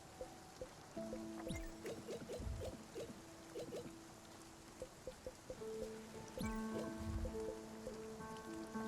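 Soft rain patters quietly in the video game Spiritfarer, blended with game music tones and chimes. The sound is faint and stays in the background.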